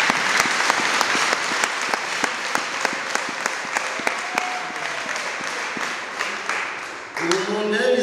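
An audience applauds steadily and loudly, a dense wash of clapping that dips briefly before a voice begins speaking over the last moments.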